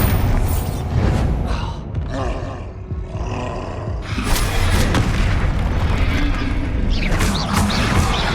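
A Bombarda blasting spell explodes in Hogwarts Legacy, with heavy booms and roaring blasts rolling continuously amid dense, loud combat noise and creature roars.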